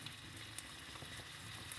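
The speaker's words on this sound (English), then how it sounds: "get a little sizzling going on already." Sausage sizzles softly in a frying pan, a faint, steady crackling hiss with a few tiny pops, heard alone.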